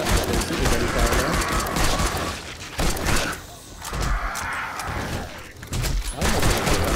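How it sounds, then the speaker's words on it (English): Rapid bursts of gunfire crackle loudly in dense volleys, pausing briefly between flurries, with mechanical clanks and bird chirps mixed in, from horde night in the video game 7 Days to Die. "Oh, I can hear the gunfire."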